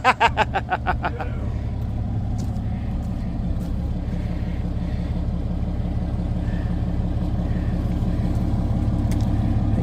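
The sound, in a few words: Dodge Cummins diesel engine with stack exhaust starting up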